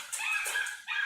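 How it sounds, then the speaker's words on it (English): A neighbor's dog yips and whines in high, strained bursts that run almost continuously, with a brief dip before another outburst, fairly loud and close with no talk over it. "Oh, there's a dog."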